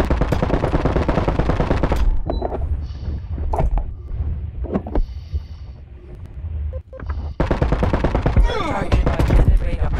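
Rapid gunfire in a multiplayer shooter, loud and close, bursting in dense volleys at the start and end with sparser single shots and wind-like noise between them.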